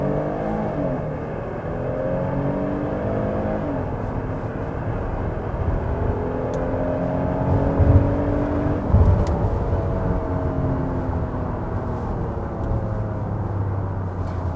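A Hyundai Palisade accelerates hard from a standstill with stability control switched off, its engine note climbing steadily over about fifteen seconds, loud and continuous with rising harmonic sweeps as it pulls through the gears.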